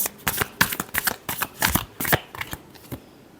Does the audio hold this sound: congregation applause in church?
no